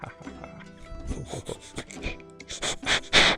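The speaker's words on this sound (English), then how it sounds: "Don't sniff the mic." Someone sniffs and snorts right into a microphone, a run of short, breathy bursts that grows louder and harsher toward the end, with faint voices murmuring underneath.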